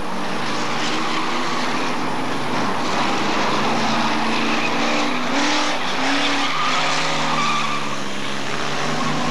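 Hotstox stock cars race around the Wisbech oval in a steady, loud roar of several engines, the droning pitch swelling and fading as cars pass close by, with tyre scrubbing and no talk.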